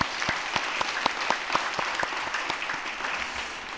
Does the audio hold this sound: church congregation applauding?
yes